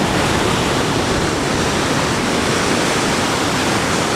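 A huge ocean wave breaks on Hawaii's North Shore, a steady, loud roar of rushing, churning water that fills the whole stretch without letup.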